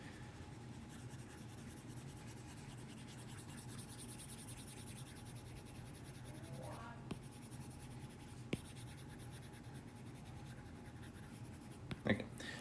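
Steady rubbing of an eraser across a classroom board, a continuous soft scrubbing texture that runs throughout at low volume, broken by a few faint taps and knocks.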